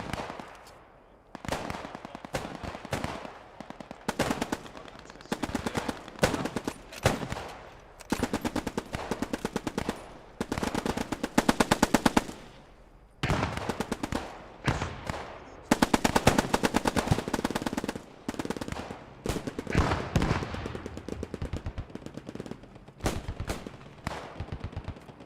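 Gunfire and grenade blasts ring out in a Post Scriptum battle. Dense bursts of automatic fire and single shots pile up into sustained loud volleys, with heavier explosions mixed through the chaos.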